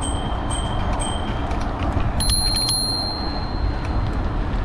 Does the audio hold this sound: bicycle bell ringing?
yes